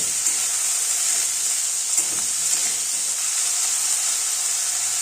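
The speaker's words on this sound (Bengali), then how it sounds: "বেগুনগুলো তেল ও মশলার সাথে একটু নাড়াচাড়া করে নেব" Eggplant pieces stirred in hot oil with cumin and dried chilli, a steady close sizzle and hiss of frying with faint scraping of the stirring spoon throughout, no voices.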